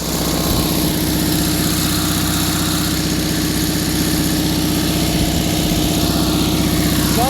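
An Onan 5 kW generator engine runs steadily on a trailer, a loud, even mechanical drone with a constant low throb throughout, close up with no talking.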